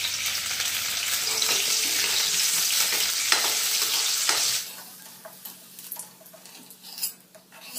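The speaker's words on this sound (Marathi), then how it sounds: "सुरुवातीला तेल टाकलेलं आहे आणि यामध्ये पहिल्या मिरच्या मी ना तळून घेणार आहे," Green chillies fry in hot oil with a loud, steady sizzle for about four and a half seconds. The sizzle then drops to a quieter crackle, with a few light clicks near the end.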